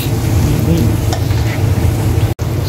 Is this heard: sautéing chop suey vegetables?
yes